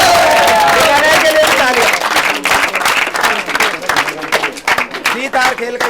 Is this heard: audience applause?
yes